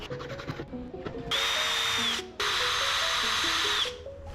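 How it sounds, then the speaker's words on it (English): A power drill whirs in two sustained bursts with a short pause between, revving steadily and loud, drilling holes through custom vehicle headliner pieces for epoxy, after some lighter clicking and handling sounds. "I'm drilling holes in these to allow the epoxy to go through the holes"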